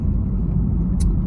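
Car cabin interior while driving on a road to Liverpool, a steady loud low engine and road rumble throughout with no talk.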